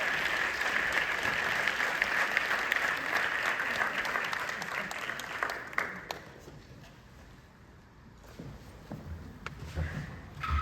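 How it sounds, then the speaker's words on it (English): An audience at a Prairie View A&M University event applauds loudly and steadily, then the clapping thins and fades into scattered claps and murmuring near the end. "Hope y'all give everyone on this stage another round of applause, please"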